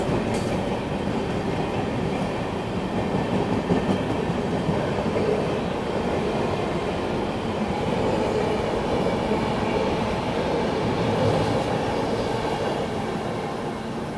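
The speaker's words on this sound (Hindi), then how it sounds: "Lucknow New Delhi Tejas express overtaking bye Gomti express" The Lucknow–New Delhi Tejas Express overtaking the Gomti Express near Unnao, a steady loud rumble of rolling rail cars and wheels on track that continues without pause.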